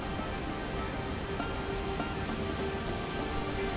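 Steady, dense rush of falling water from Thoseghar Waterfall in Satara, continuous and fairly close, with no voices.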